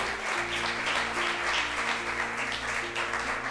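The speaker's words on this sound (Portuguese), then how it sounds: "Dê um aplauso ao Senhor Jesus e glorifique a Ele." Congregation applauding during a church sermon, a dense steady wash of clapping across the whole stretch with sustained low tones, likely music or organ, humming underneath.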